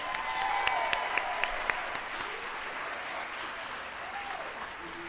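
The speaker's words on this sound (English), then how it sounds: "applause" Steady applause from an audience at an induction ceremony, moderately loud and sustained, with a few sharp individual claps standing out early and faint voices murmuring underneath.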